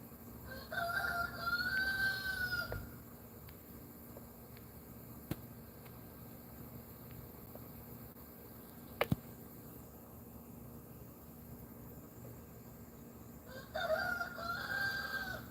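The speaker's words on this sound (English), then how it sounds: "Y'all hear the rooster? He's talking to you." A rooster crows loudly twice, once at the start and again near the end, each a drawn-out cock-a-doodle-doo separated by a long quiet stretch with only faint background and a few small clicks.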